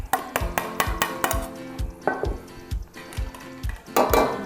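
Onions tossed and stir-fried in a pan with garlic and ginger for Thai basil chicken rice: loud rhythmic clanks of a spatula or ladle against the pan over a steady sizzle, heard close up with no talk.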